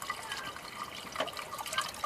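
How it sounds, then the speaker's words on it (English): Water trickles and splashes as it is poured into the cooling system of a 2007 Ford Taurus that is overheating. The sound is a steady liquid pour with small drips, close and fairly quiet, with no talking. "So I'm just adding water because the coolant, like I said, is a little expensive."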